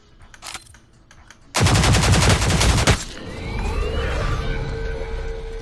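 Gunfire from someone shooting, a loud dense burst of rapid automatic fire lasting over a second, preceded by quieter scattered noise and followed by a lingering rumble and fainter activity.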